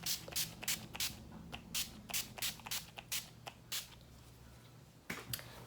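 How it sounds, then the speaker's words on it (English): Short bursts of ONYX setting spray misted onto a face, a quick irregular series of hissing puffs, some closely spaced, close to the mic with a faint low hum beneath and no talking. "I just sprayed a little bit more of this setting spray by ONYX"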